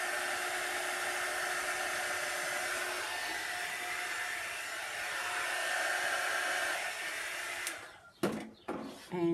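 A hair dryer blows air over a seascape resin pour on serving boards, a steady whooshing drone up close that runs for about eight seconds before cutting off, followed by a few brief bumps.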